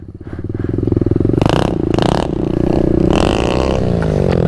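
Pit bike motorcycles riding together outdoors near a fence line, engines buzzing loud and close with steady pulsing throttle and surges of revving, no voices.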